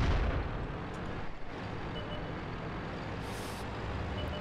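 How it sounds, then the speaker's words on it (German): Tank cannon fire in World of Tanks from a Soviet tier X medium tank, the T-22 sr, firing APCR rounds: a loud rumbling blast at the start that decays into continuous heavy battle rumble and engine noise. "Aber ich werde jetzt nochmal auf den Kollegen schießen."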